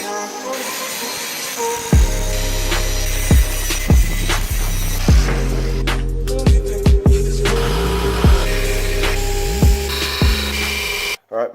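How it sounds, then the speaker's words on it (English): A Damascus steel box-opener blade is ground to its outline on a motorized grinder, a loud continuous whine with repeated scraping contact passes at irregular intervals, and the motor winds down at the end. "Now I'll just grind away all the stuff that's blue."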